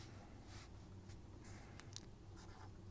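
Chalk or marker working through a geometry problem on a classroom board, a light scratchy scribble with short taps and strokes, faint and close against a low room hum, with no talking.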